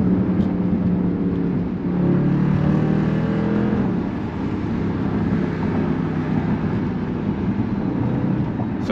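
An SRT Jeep fitted with a new exhaust setup drones loudly and steadily from the driver's seat, engine note rising and dipping through a downshift with shifting harmonic bands and no talk over it.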